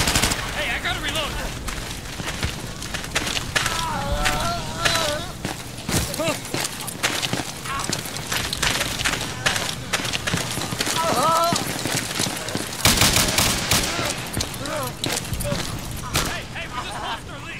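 Gunfire in the video game Insurgency, rapid bursts and single shots cracking repeatedly amid busy combat noise, with people talking over the action throughout.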